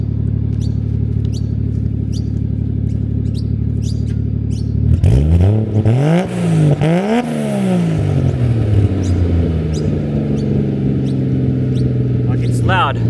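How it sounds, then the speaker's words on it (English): A Toyota JZX100 Mark II with a full custom stainless exhaust idles steadily, then snaps through two quick sharp revs and settles back to a loud, throbbing idle, heard up close. "Give it a cheeky rev for you"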